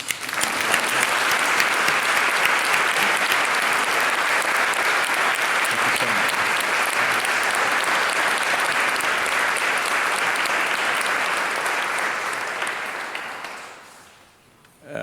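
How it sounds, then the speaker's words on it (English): Audience applause for the UN High Commissioner at the Anna Lindh Lecture: sustained, loud, even clapping from a full hall that runs about thirteen seconds, then tapers off and dies out. "Let's give the High Commissioner a warm applause"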